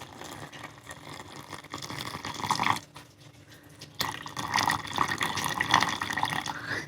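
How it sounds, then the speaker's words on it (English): Boiling water poured from a kettle into a bowl of spelt, a steady splashing pour that breaks off briefly midway and then resumes, with no talking. "I'm going to add 172 grams of boiling water"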